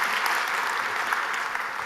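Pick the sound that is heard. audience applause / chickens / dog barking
audience applause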